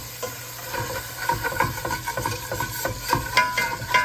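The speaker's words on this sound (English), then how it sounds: "We're going to deglaze." Red wine hitting a hot pan of Sicilian meatballs, giving a steady close sizzle and hiss with busy scraping and stirring scratches throughout, no talking.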